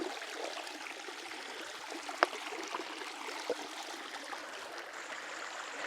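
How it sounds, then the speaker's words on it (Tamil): A forest stream flows steadily nearby with a soft, continuous trickle and gurgle, and a couple of brief splashes or clicks stand out. No one speaks over it. "இந்த ஓடை ரொம்ப சிறப்புன்னு சொல்லலாம்ல."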